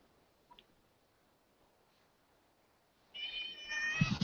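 A house cat meows for attention in a quiet room, a drawn-out, rising call near the end following a couple of tiny clicks.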